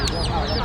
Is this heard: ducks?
yes